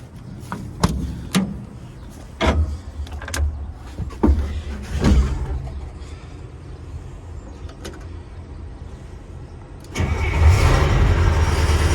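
Clicks and clunks inside an army truck cab, then its large diesel engine cranks and roars to life near the end, rumbling loudly.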